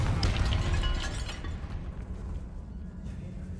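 A Confringo fire spell bursts in Hogwarts Legacy inside a tomb, a loud rumbling blast with crackling debris up front that settles into a lower, steady roar over the next few seconds.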